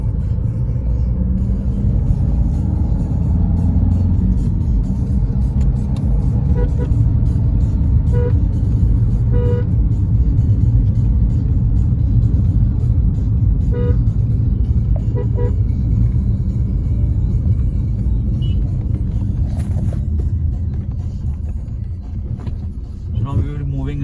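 Maruti Suzuki Vitara Brezza fitted with a flat-bottom steering wheel, driving at speed on a main road: a steady, loud engine and road rumble fills the cabin throughout, with occasional faint horn toots and a voice talking over it.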